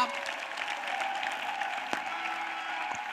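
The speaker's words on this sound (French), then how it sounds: "Acclamation, le miracle. Clap." A church congregation claps in acclamation during a French-language prayer service, a steady dense wash of applause at moderate level with a few sharper claps standing out, and some voices mixed in underneath.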